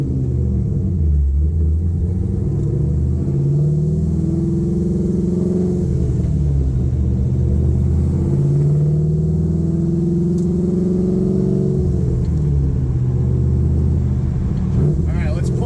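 A 1969 Camaro restomod with an LS3 V8 and new wheels and tires cruises along, its engine a steady low rumble with gentle rises and falls in pitch throughout, close and continuous.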